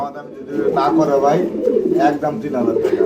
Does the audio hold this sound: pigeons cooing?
yes